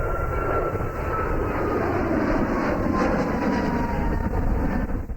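An airplane passes with a loud, steady engine roar and a slowly shifting whine, close and continuous for the whole stretch, with no voices.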